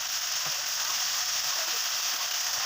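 Chicken fries in a pan as chili and tomato sauce are stirred in. A loud, steady sizzle and hiss runs throughout, with faint scraping from the stirring.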